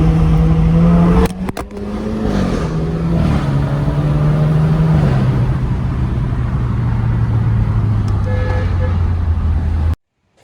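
BMW F30 fitted with an aftermarket exhaust, a loud, close engine drone that rises briefly and then settles into a falling hum before cutting off abruptly near the end, with a voice talking over it.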